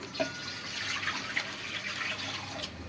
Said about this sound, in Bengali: কড়াইয়ের মধ্যে জল দিয়ে দিচ্ছি